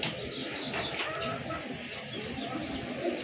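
Pigeons coo faintly in a noisy setting, low soft calls blending into a steady hiss and murmur of background sound.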